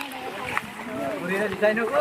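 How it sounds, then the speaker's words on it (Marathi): Water rushes and splashes steadily at a sunny waterfall, a continuous close wash beneath loud conversation that runs through most of the moment. "पाणी बघा किती येत आहे मंडळी"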